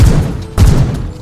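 Two loud, heavy semi-automatic shots from an HK417 rifle in a Minecraft Bedrock guns mod, spaced about half a second apart, booming and close.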